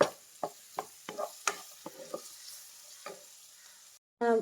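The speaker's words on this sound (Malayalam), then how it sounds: "സവാളൻ്റെ കളറൊക്കെ മാറണ വരെ നല്ലോണം ഒന്ന് വഴറ്റിയെടുക്കണം" Sliced onions being sautéed in a pan for a Kerala-style chicken kurma, with a series of distinct scraping stir strokes over a faint sizzle and a brief louder burst at the end.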